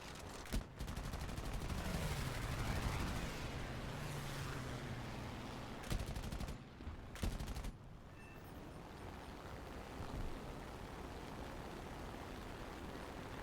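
Gunfire in War Thunder striking a mountainside: quiet rattling bursts of shots and sharp cracks over a constant roaring engine drone, with a few louder bursts midway.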